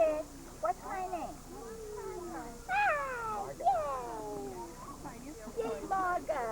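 A cat meows repeatedly at close range in a series of rising and falling cries while people talk around it.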